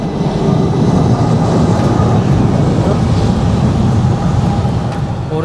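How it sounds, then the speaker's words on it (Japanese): A Japanese-made commuter train pulls into a station in Manila, a loud, continuous rumbling roar of wheels and motors that holds steady throughout with faint rail rattles on top. "特に接近放送が鳴るわけでもなく、突然電車がやってきて発車メロディーも存在しない。"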